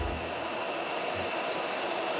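Hair dryer blowing steadily and loudly while styling long men's hair around a roller at the neckline, a continuous broadband whoosh with no talk.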